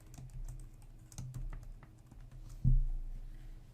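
Typing on a computer keyboard while setting up Oracle Linux in VirtualBox: a quiet, close patter of scattered key clicks with one sharper, louder keystroke near the end, no voices.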